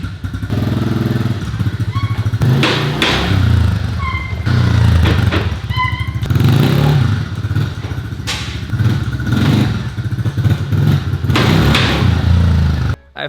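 A big motorcycle fires up and revs inside a garage, its loud close engine roaring and dropping in repeated throttle blips with clattering mechanical noise throughout.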